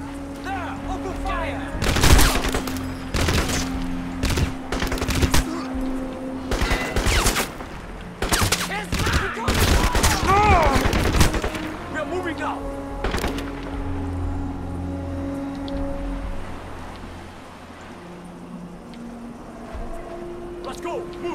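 Gunfire in the video game Crysis, loud bursts of automatic fire in sharp volleys over the first half, with a voice talking between shots before the shooting thins out amid engine hum.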